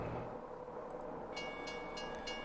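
A train running in the OpenTTD transport simulation game, a soft steady rolling rumble with faint rhythmic clicks, heard quietly on its own.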